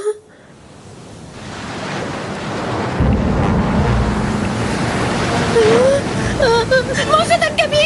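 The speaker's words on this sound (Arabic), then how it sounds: "موجة كبيرة." Large ocean waves surging and breaking on a beach, a broad roaring wash that builds and stays loud, with cartoon voices and whistling tones joining near the end.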